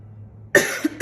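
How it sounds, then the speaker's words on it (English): A person coughs twice, close and loud, a sharp cough followed by a short second one after a brief pause, with no talk. "I don't know why I'm coughing all of a sudden."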